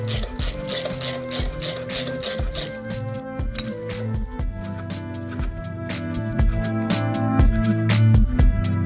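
An 18mm socket wrench works a spark plug out of a 22-inch lawnmower, giving a run of rapid metallic ratchet clicks in steady bursts, close and fairly loud, with no voices.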